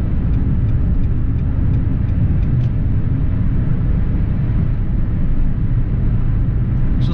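A Nissan March 1.2 with automatic transmission driving on a road in Indonesia, heard from inside as a steady, loud low engine and road rumble with no talking.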